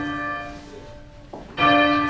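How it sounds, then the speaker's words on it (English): A Cambridge church bell weighing up to a ton rings out, one harmonic strike decaying before a louder, brighter peal swings in near the end, close and resonant with no talking. "The bells here weigh up to a ton and swing with huge momentum."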